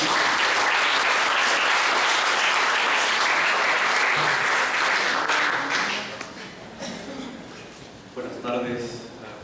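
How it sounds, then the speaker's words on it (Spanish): An audience at a political science workshop applauds loudly and steadily to welcome a speaker, then the clapping fades out and a voice begins talking. "Le damos un fuerte aplauso y brindamos su atención."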